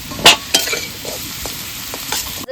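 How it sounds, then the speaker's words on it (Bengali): Potatoes fry to a deep reddish brown in oil for a village-style koi fish dish. A steady sizzle runs throughout, with a few sharper scrapes and stirring clatters rising above it. No one speaks. "আলুগুলো দেখো ভালো করে ভেজে দিয়েছি একদম লাল লাল করে"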